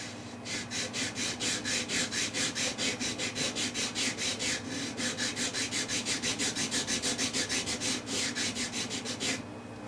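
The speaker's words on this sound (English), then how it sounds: "we'll just start working with the sanding stick and taking that line down" Steady back-and-forth sanding of a wooden guitar neck with a sanding stick, a rapid rhythmic rasping stroke repeated dozens of times up close, stopping abruptly near the end.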